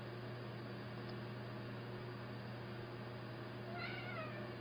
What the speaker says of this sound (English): Cat wanted to say something.